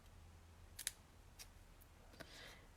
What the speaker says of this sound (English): I'm going to snip up the middle.